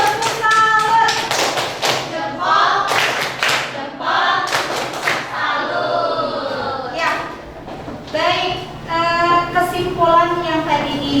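A classroom group claps out the rhythmic 'tepuk salut' salute clap, a series of sharp, fairly loud patterned claps mixed with children's voices and speech.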